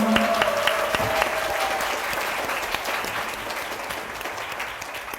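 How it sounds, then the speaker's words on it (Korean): Concert audience applauding after a study-method presentation, with a brief tone at the start; a dense burst of many hands clapping that gradually tapers off, with no talk over it. "아주 훌륭한 발표를 보여준 우리 나연 리더님께 다시 한번 큰 박수 부탁드리겠습니다"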